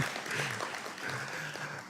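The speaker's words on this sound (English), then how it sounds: "Sure, you can applaud that." Brief applause from a lecture audience at a trade center in Grenada, a soft, fairly distant clatter of hands with a voice murmuring underneath.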